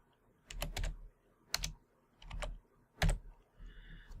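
Keys tapped on a computer keyboard while an IP address is entered, short quiet clusters of clicks in four brief groups, close and soft.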